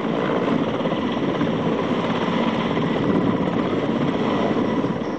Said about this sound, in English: Mi-17 helicopter units, armed with rocket pods, were inducted into Op Safed Sagar around mid-May.